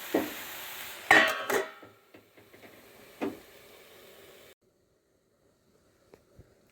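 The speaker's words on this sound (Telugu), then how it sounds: "నేను మూత పెట్టేస్తాను" A metal lid is set on a pot of amaranth leaf and moong dal curry, with a few sharp clanks and knocks near the start, a lighter tap shortly after, then quiet.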